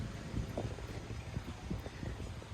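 Steady wind buffeting the microphone outdoors, a continuous low rumble with gusty swells and no voices.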